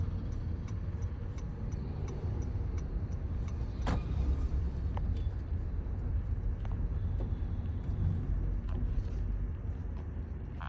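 A car slowing and pulling over to a stop during a driving lesson, heard from inside as a steady low road and engine rumble with a few faint clicks and no talking.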